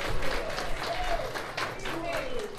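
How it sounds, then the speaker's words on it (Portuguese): Audience applause at a book launch event for someone in Ribeirão Preto: dense, steady clapping under a speaking voice, fairly close and even in level throughout. "Também uma salva de palmas"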